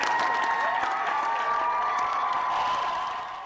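A large commencement audience applauds a 105-year-old graduate of the class of 1940 as she takes the stage, with steady, dense clapping that holds even throughout and fades slightly at the end.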